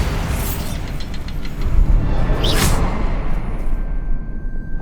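A Bombarda spell blast in Hogwarts Legacy, a loud booming explosion with a crackling burst and a whooshing sweep, surrounded by rumbling combat noise.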